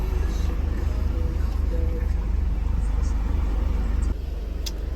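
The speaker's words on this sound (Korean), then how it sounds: "네, 바로 시동 걸리죠" A Renault Samsung QM5 engine runs steadily with a loud, constant low rumble, its idle level shifting slightly near the end.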